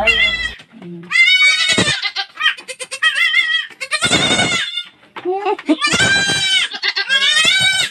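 Several goats bleat loudly and close by in overlapping, wavering calls, some long and quavering, others short, filling the whole stretch with only brief gaps.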